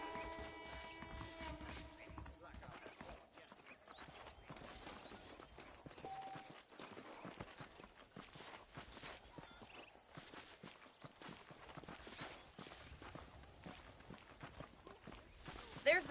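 Saddled horses walk in a cowboy video game, hooves clip-clopping in a steady, unhurried rhythm, faint and somewhat distant, with a voice talking over them.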